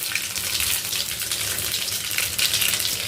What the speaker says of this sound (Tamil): கடுகு நல்லா பொரிஞ்சிடுச்சு.